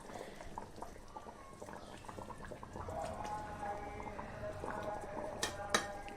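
Water being poured into a pan of fish curry with katla fish: soft liquid splashing and sizzling at close range, fairly quiet, with a small clatter near the end.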